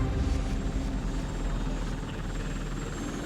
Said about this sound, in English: flying into dangerous territory in a helicopter with a major vulnerability